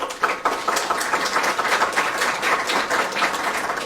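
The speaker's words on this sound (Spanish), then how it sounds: "a quien también le pido un fuerte voto de aplauso" Audience at a legal training session on opening statements and cross-examination breaks into steady, moderately loud applause, with individual claps audible through the sustained wash of sound.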